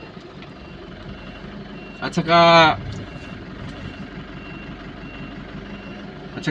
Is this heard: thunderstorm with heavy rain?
no